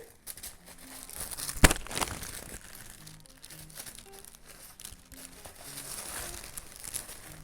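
Tissue paper wrapped around a handbag crinkles and rustles during unboxing, continuous soft crumpling with a sharp crackle near the start, close up and with no talking.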